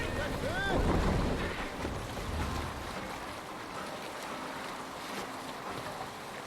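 A sailing ship moves across open sea in the video game Assassin's Creed Valhalla, with a steady wash of waves and wind rushing around the hull, broad and continuous, plus a brief tonal cue near the start.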